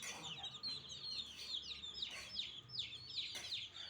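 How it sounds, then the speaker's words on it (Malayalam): White Kappiri chicks cheep in a busy, overlapping chorus of high, thin peeps, each sliding downward, nearby and steady throughout. "ഈ കോഴിക്കുഞ്ഞ് വെള്ള കാപ്പിരിയാണ്"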